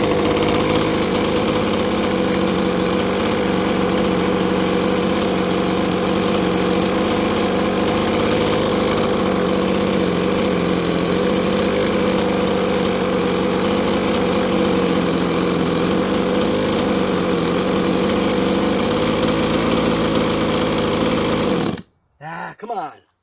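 A 1/5-scale 4x4 Exceed Barca RC car's small gas engine running loud and steady on its first start, a buzzing drone with slight pitch wobble that cuts off abruptly near the end.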